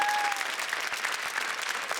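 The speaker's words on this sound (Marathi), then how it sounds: "स्वप्नील जोशीसाठी एकदा जोरदार टाळ्या होऊन जाऊ द्या" An audience breaks into loud, dense applause, many hands clapping together in a steady roar that fills the room for a couple of seconds.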